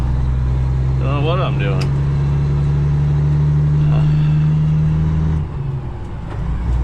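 A 2015 International ProStar truck with an ISX engine drones steadily and loudly while hauling a heavy propane load with the window down, then the engine note drops near the end. Someone talks over it throughout.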